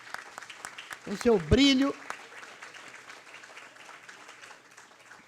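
Light applause from an audience at an executive board meeting patters quietly under a speaking voice, with scattered claps continuing at low level throughout.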